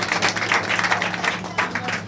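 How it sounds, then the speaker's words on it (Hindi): An audience applauds at the close of a Hindi talk, a brief burst of many hands clapping together over a low steady hum, fairly loud and unbroken. "अपने लिए ताली बजा दीजिए एक बार फिर।"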